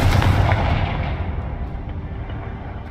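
Confringo blasting spell cast in the Hogwarts Legacy video game, a loud booming explosive burst at the start that rolls into a long fading rumble with no talk.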